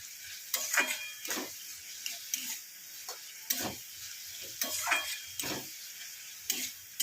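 Fish curry masala sautéed in oil, close irregular spatula scrapes and stirring strokes over a low sizzle, repeated every second or so without any talking.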